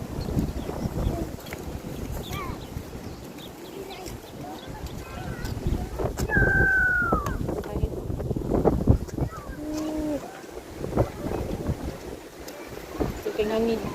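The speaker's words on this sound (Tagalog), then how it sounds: "Strong wind." Strong wind buffets the microphone outdoors by the sand and sea, a continuous rough roar under voices and an excited shout.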